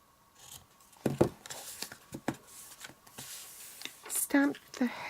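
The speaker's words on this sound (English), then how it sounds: "Get the ribbon scissors and trim the ends off." Several quick snips of scissors cutting ribbon, crisp close clicks scattered among rustling handling sounds.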